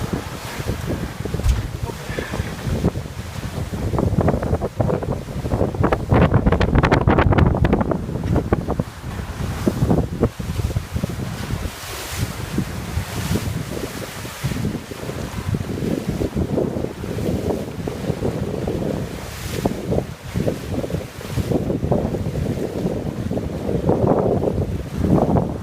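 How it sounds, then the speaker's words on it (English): Strong wind buffets the microphone aboard a boat on the open ocean in the early morning, with waves and surf washing steadily underneath and gusts swelling and easing throughout. "What 8 o'clock in the morning's like out in the ocean"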